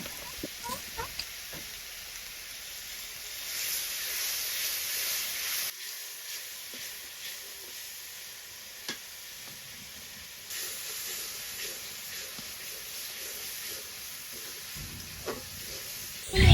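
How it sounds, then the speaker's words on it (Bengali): Shrimp sautéing in a pan with onion-garlic paste and salt while being cooked for a shrimp and jackfruit dish, giving a steady soft sizzling hiss with occasional stirring clicks and scrapes, fairly quiet and free of talk. "এবার পেঁয়াজ রসুন বাটা এবং স্বাদ মতো লবণ দিয়ে চিংড়ি মাছগুলোকে একসাথে কষিয়ে নিব।"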